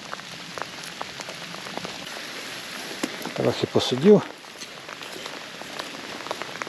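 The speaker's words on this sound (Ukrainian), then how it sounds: "Не встигнув я збиратись, хмара моментально пролилась." Rain pours down steadily during autumn fishing for tench, a constant hiss of drops on surfaces, with someone speaking briefly over it.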